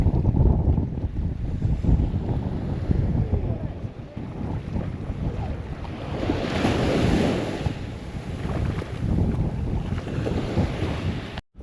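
Strong wind buffeting the microphone on the coast near Esperance, a continuous low rumbling blast with gusty swells, loud and close, with surf noise mixed in beneath.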